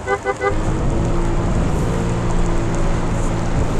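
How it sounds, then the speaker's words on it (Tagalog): Heavy rain pours steadily during a solo long-distance motorcycle ride, a dense, loud wash of noise that holds throughout with a few brief chirpy tones at the start. "Ay, grabe na ulan naman."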